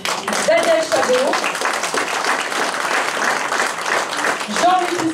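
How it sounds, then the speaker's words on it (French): An audience applauds a row of village mayors at a public gathering, sustained dense clapping that fills the space, with a voice speaking briefly over it at the start and end. "Merci de les applaudir."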